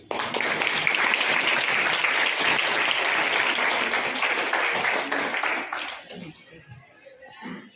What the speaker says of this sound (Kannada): ಅವರೆಲ್ಲರಿಗೂ ಒಂದು ಸಾರಿ ಚಪ್ಪಾಳೆ ಹೊಡೆದು